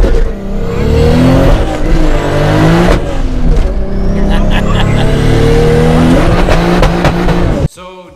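Toyota Supra driven hard, its engine loud and close with sustained revving and rising and falling pitch, tires squealing through the run, before the sound cuts off abruptly near the end.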